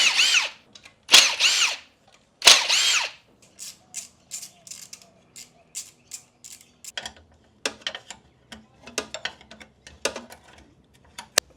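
Power tool zipping out the engine sump bolts on a Nissan Patrol, three loud whirring bursts up front followed by a run of shorter rattling spins and ticks, with no talk.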